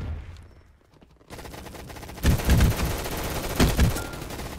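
Gunfire in the Roblox Gunfight Arena game: after a quiet start, a sustained rattling stream of rapid shots kicks in, with heavier bursts punching through near the middle and end.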